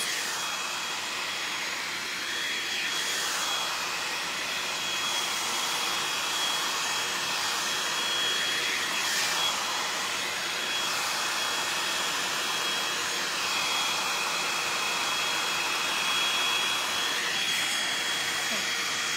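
A hair dryer blows steadily while hair is styled and curled, a continuous broadband whoosh held at a moderate level, shifting slightly as the dryer moves around the head.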